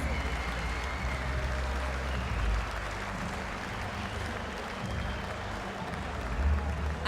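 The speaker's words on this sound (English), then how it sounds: "Please give a round of applause, first of all, to the Dutch lady that now leaves the tournament" An audience at the Winmau World Masters darts tournament applauds, a dense, steady wash of clapping that holds evenly throughout.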